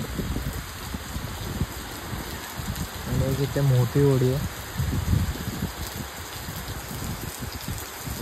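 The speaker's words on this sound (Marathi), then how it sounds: "पाऊस बघा किती फास्ट आहे." Heavy monsoon rain pours steadily over a waterside spot with boats out on the water, a constant loud hiss filling the whole stretch while someone talks over it.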